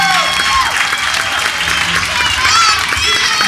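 Applause from a small indoor gathering fills the room with steady, dense clapping, and a few voices are heard talking underneath.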